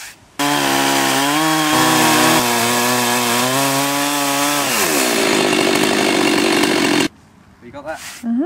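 A chainsaw mini mill roars loudly and steadily as it quarter-saws a log, its engine pitch holding then dropping as the cut eases, before cutting off abruptly, followed by brief quieter handling noise near the end.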